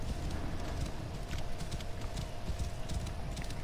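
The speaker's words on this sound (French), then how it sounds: "On va y aller à dos de cheval." Steady horse hooves clip-clopping at a brisk, even pace over a constant background hum in the video game Assassin's Creed Origins, continuous throughout with no talking.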